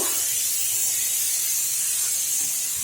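Two eggplants are rinsed under a running tap, a steady, close, unbroken hiss of water with no speech.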